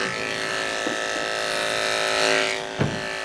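Electric clippers buzzing steadily on a Westie dog's tail hair, a close continuous motor hum with slight shifts in pitch as the blade moves through the coat and a brief knock near the end.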